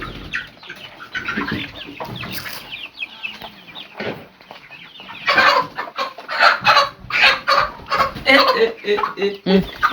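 Chickens cluck and squawk close by in a busy run of rhythmic calls, with voices talking in the background.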